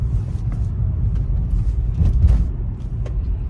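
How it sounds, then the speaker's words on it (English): Steady low road rumble from a BMW E46 driving along with a worn, noisy front wheel bearing, a continuous droning hum with slight swells and no talk over it. "got a little bit of a noisy wheel bearing"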